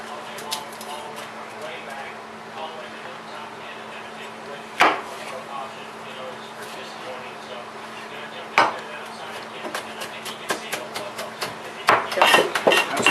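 A knife cutting through a jalapeño on a cutting board, with soft scraping, a few sharp knocks against the board, and a quick burst of chopping taps near the end.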